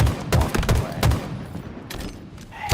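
Rapid bursts of gunfire from the Halo video game rattle close and loud in quick clusters, fading into quieter background shots with faint game sounds.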